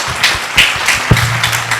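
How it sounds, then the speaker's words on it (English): An audience at a school quiz show claps for a contestant, giving a short patter of scattered claps close by with a low hum underneath. "A clap for her."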